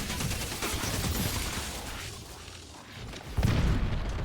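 Grenade blasts in a battle royale shooter, muffled booms rolling over dense distant gunfire, with a heavier thump near the end.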